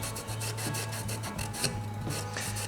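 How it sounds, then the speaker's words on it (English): A rag soaked in methylated spirits rubbed back and forth along a pinball machine's wooden rail, steady close rhythmic rasping strokes about three or four per second, with no voices. "just using methylated spirits on a rag"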